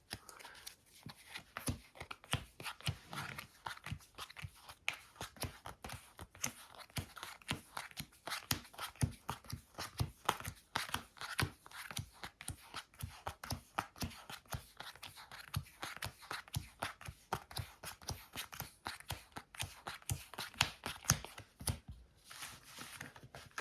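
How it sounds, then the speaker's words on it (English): Yu-Gi-Oh trading cards being pile shuffled, a long run of rapid, close, crisp card slaps and flicks in uneven rhythm, fairly quiet with no talking. "I think this time I'm gonna pile shuffle because the hand was kind of weird."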